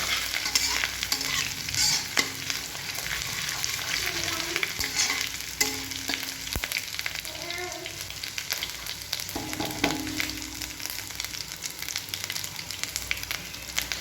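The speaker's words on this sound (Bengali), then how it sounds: "এবার আমি এটাকে নেড়ে নেব।" Grated ginger and chopped garlic sizzle steadily in a pan for pasta while being stirred, with close spatula scrapes and taps over the continuous frying hiss.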